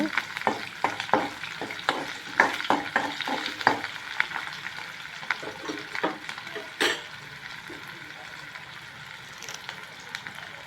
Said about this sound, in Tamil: வதங்க விடுங்க நல்லா ஹை ஃப்ளேமில் வச்சே வதங்க விடுங்க